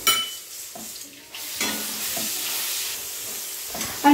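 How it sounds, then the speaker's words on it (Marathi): Chopped onion sautéing in a pan for a Bhogi vegetable dish, with a loud, close, continuous sizzle and a few scraping stirs of a spoon against the pan. "आता मस्तपैकी हे थोडं लालसर आणि गोल्डन कलर येऊसर परतून घ्यायचं"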